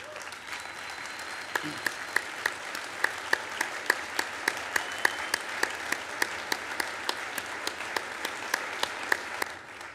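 An award banquet crowd applauds past winners with steady, moderately loud clapping, while sharp individual claps snap out in a regular rhythm near the front.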